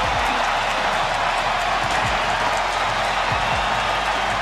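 A home stadium crowd roars and applauds after a DC United goal in a match against Bayern Munich, a dense, sustained wash of cheering that stays loud throughout.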